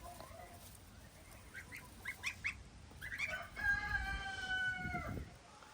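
Young geese a few weeks old on a homestead, honking and calling faintly at first, then several longer drawn-out calls close by, with soft outdoor background noise.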